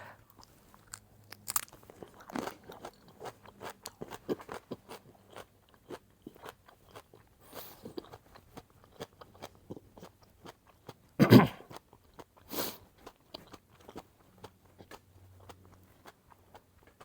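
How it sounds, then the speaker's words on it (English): Someone bites into and chews a jalapeño topped with chocolate syrup, giving soft wet crunches and mouth sounds that run on in quiet, irregular bursts, with one louder crunch partway through. "So I'm actually going to take another bite, try out my theory of will Hershey syrup or chocolate syrup mask the hotness."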